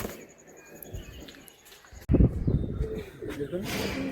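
Pigeons at a Howrah pigeon sale, low soft cooing among shuffling and handling noises, with people talking nearby and a louder burst of bustle partway through.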